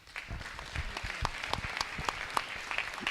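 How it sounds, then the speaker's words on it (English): Audience applause at a municipal election candidate forum, many hands clapping at moderate loudness with a few sharper individual claps standing out, sustained throughout. "A big round of applause for our folks from the Chamber."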